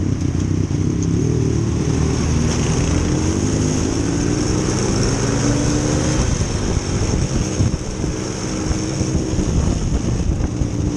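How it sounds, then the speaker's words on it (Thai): A Yamaha Tracer 900 GT's 900 cc three-cylinder engine runs loud and close, with a steady throbbing rumble that rises and falls slightly over a continuous stretch of riding. "เครื่องสามสูบจาก MT07 นะครับ ผมจับได้แบบนี้ ส่งใจบ้างไหม เครื่องสามสูบนะ"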